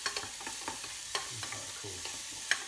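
Spoon stirring tomato sauce with sweated onions and garlic in a pan, soft scraping strokes at an irregular pace over a quiet background simmer, ending in a small clink.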